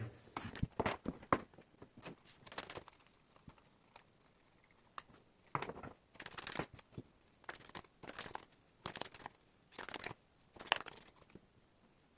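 Tarot cards shuffled and laid out for a reading, giving repeated short papery bursts of riffling and crinkling separated by quiet gaps, close and fairly soft with no talk.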